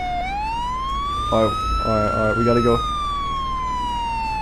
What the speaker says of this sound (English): Oh, okay, that's the siren.